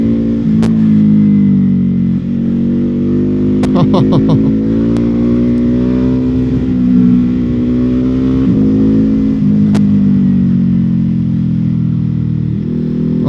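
A Ducati Hypermotard 950 motorcycle being ridden, its engine loud and close with a steady throbbing note, revving up and easing off several times, with a few sharp clicks over the top.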